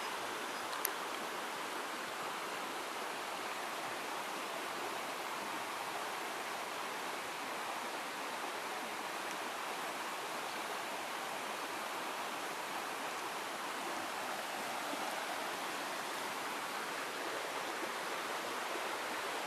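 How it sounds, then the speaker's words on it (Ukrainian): Steady rushing clear water fills the whole stretch, a broad even splash of a small waterfall close by near Baden-Baden, with no voices. "А ось і перший маленький водоспад."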